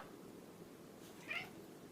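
A single short cat meow, faint and fairly distant, rises once over a steady background hum in a home where two cats and a Chihuahua are kept.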